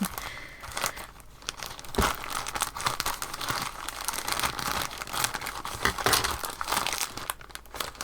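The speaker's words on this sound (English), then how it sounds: "It's always difficult when you're opening a package that you know has got fabric inside." A mailed package holding fabric is opened by hand. Continuous close paper crinkling and rustling run throughout, broken by sharper tearing rips, with no talking.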